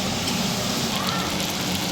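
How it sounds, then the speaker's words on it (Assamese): Ghee is poured onto rice in a pressure cooker while making biryani, a steady close sizzling hiss that stays even throughout with no voices. "মোৰ ইয়াত ঘি ঢালি আছোঁ মই চাউলত"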